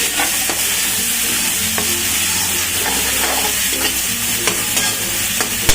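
Tomatoes fry in a pan with browned ingredients for an eggplant sabzi, giving a loud, constant sizzle with rhythmic stirring scrapes and light clinks.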